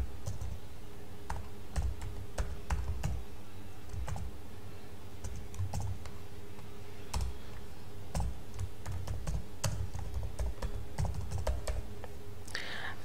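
Steady typing on a computer keyboard while writing JavaScript code, soft close clicks in uneven bursts with brief pauses, quiet and alone.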